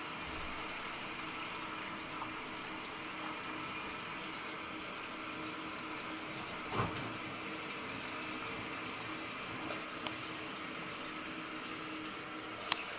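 Steady stream of water running from a tap, continuous and fairly close, with a few faint clinks in the background.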